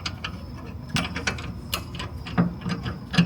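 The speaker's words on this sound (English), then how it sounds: "And then we can torque this one down as well" A hand ratchet clicking in short irregular bursts while torquing down a bolt on a BMW X5M suspension during a lowering spring install, close and crisp with sharp metallic ticks.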